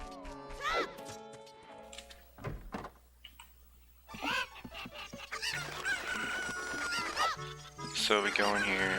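Chickens cluck and squawk in Zelda: Ocarina of Time with busy, overlapping calls and a crow-like cry, mixed with game sounds like a sliding door. A voice talks over parts of it.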